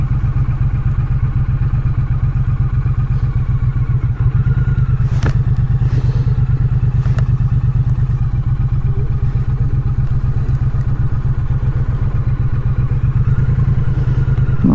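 Triumph Street Cup motorcycle riding at slow speed, a steady low engine thrum with a regular firing pulse held close and loud throughout, with a few clattering knocks and a brief thud partway through.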